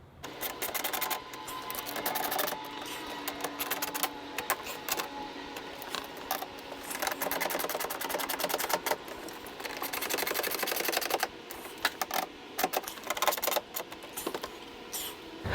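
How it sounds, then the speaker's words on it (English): Small bolts on a car's front air dam are tightened, producing a fast, continuous clicking and whirring from the tool that runs steadily for about fifteen seconds at close range, with no talking. "So now I'm going to go up front and just tighten up those small bolts."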